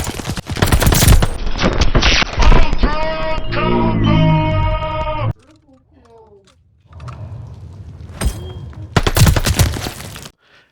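Rapid automatic gunfire in the Call of Duty Vanguard ranked multiplayer beta, dense bursts with a rising whirring weapon sound, a short quiet gap, then more shots, with in-game voice callouts mixed in.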